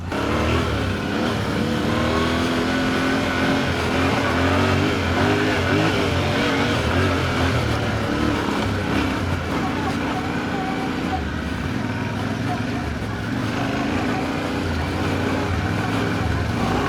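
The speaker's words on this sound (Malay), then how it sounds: "Motor ni memang fun lah kalau off-road." A Yamaha Tenere adventure motorcycle rides off-road, its engine droning and revving steadily at close range throughout, with wind and ground rumble, while a rider talks over it.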